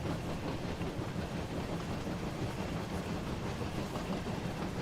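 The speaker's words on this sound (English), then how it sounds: "I can hear the engine slowing down." Steady rumble of a train engine slowing on a bank in a Thomas train simulator game, a low continuous drone with faint rhythmic clatter and no talk over it.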